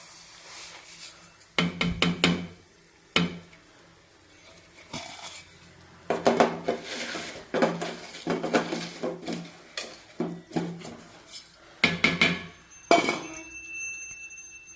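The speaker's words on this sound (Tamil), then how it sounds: "ரவை போட்டு நல்லா நெய்யில் வதக்கிட்ட பிறகு" Semolina being roasted in ghee in a pan, stirred with a utensil that clinks and scrapes against the metal in irregular bursts of close, moderate clatter between quieter pauses.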